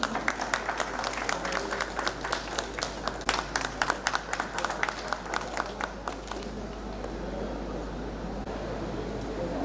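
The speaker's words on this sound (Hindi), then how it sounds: "सभी जोरदार तालियों में" Audience applause at an inauguration ceremony for a new higher secondary school building in Nagrota, Jammu: dense, close clapping for about six seconds that then thins and fades into a low room murmur.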